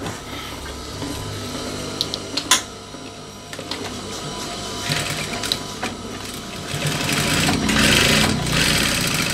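Sewing machine stitching close along the pocket fabric of baggy trousers, a steady mechanical whir with short bursts and pauses, then running faster and louder toward the end, with no talk.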